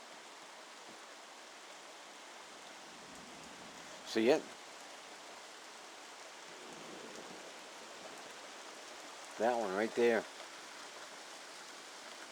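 Heavy rain pours down as a steady, even hiss throughout a thunderstorm, with a person's voice breaking in briefly twice.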